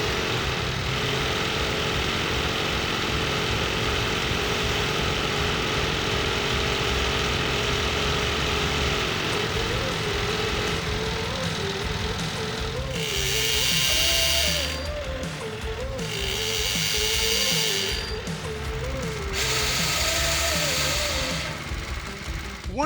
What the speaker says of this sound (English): when we let go of the lever to spin the reel, how they come to a stop once we release